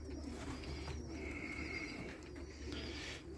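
Pigeons coo faintly in a loft, low murmuring calls over a steady background hum, with a few higher chirps mixed in.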